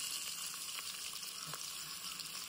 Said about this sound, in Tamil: வெங்காயம் வறுவலாகுது.